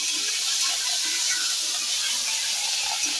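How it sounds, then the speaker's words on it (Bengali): Ginger and cumin fry in a wok (kadai) with a steady, close, high-pitched hiss and faint crackle that holds evenly throughout, with no voices. "আদা আর জিরেটা এই কড়াইতে হালকা করে একটু ভেজে নেড়ে নিয়ে দিয়ে দেবো"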